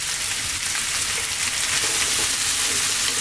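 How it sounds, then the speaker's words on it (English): Potatoes frying in a pan over fairly high heat for a vegetable curry, giving a steady, dense sizzle that holds at an even level throughout with no voices. "We're going to just fry these around on a fairly high heat, as you can hear"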